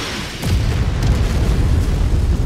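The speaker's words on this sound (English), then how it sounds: "More artillery!" Artillery shells exploding in MechWarrior 5, a heavy booming blast that rolls into a sustained loud rumble of continuous low impacts.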